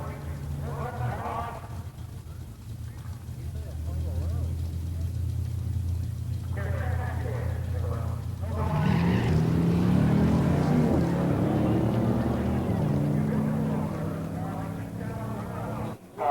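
Stock muscle cars drag racing side by side: a 1970 Buick GS Stage 1 convertible and a 1969 Super Bee 440 six-pack automatic, a deep steady engine rumble building louder midway under a commentator's voice.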